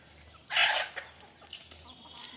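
A country chicken gives a sudden loud squawking cluck near the start, followed by a few softer clucks and faint farmyard sounds, close by and with no talking.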